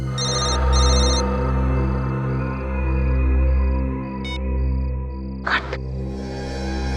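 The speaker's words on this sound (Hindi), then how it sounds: "उस तरफ से आवाज आ रही है फोन की।" A telephone bell rings in repeated double bursts over a steady low electronic drone, followed by a brief sharp clatter near the end, with no speech.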